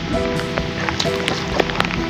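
Rain falls on a paddy field during rice planting, making a steady, close pattering wash with scattered sharper drop hits and a faint tonal hum underneath.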